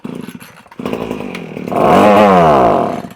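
A small petrol strimmer engine on half choke runs roughly at first, then revs up into a louder, rising whine before easing off, close and alone.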